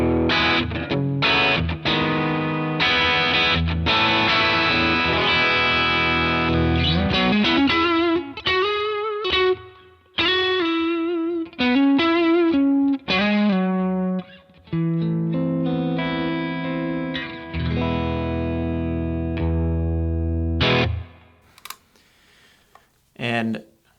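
Electric guitar played through the raw, open right-hand channel of a Browne Carbon X dual overdrive pedal with all controls at noon, giving crunchy driven chords and single-note riffs, loud and upfront, ending on a ringing chord.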